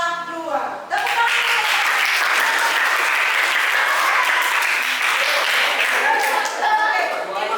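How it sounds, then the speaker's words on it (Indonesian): A classroom of students bursts into loud, dense clapping that starts abruptly and holds at full strength for several seconds, with a few voices calling out over the applause. "Tepuk tangan."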